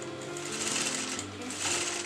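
A sewing machine stitches the back neckline of a lined kurta: a brief, close, steady whirring run of needle strokes.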